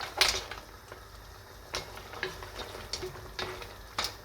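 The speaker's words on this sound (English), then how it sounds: "We're gonna add the parsley in. I'll give it a lovely mix" A spoon stirs fish stew with parsley in a pot, making a soft bubbling simmer broken by sharp, irregular clinks and scrapes against the pot, close and fairly quiet.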